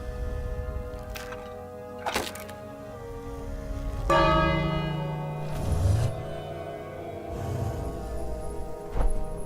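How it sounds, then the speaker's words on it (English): A bell is rung in the King's Quest video game, its loud struck tones ringing out several times with long, shimmering harmonic decay that overlaps into a sustained resonant wash. "And now, if you ring the bell,"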